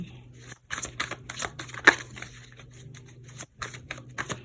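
A slightly sticky deck of cards riffles and shuffles repeatedly in close, crisp bursts, with short pauses between passes and no voices.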